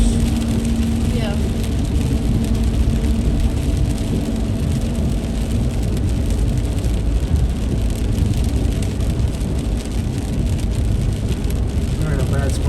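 Heavy rain and a thunderstorm with hail pound steadily on a car during a drive in Hoover, Alabama, a constant loud drumming roar inside the vehicle, with people talking over it.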